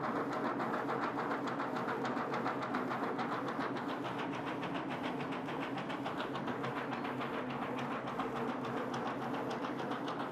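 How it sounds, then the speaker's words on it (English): A DTF printer's rotary powder dusting system running at speed, a steady, moderately loud mechanical whir with fast, even rhythmic clatter and no talking. "And be sure the dusting system is rotary with good speed."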